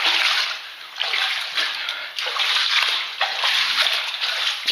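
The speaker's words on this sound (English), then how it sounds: "Water coming out of that crack right there." Water pouring and splashing steadily out of a crack in the wall of an underground tunnel, a close, continuous rushing wash that swells and dips in loudness, echoing slightly in the enclosed space.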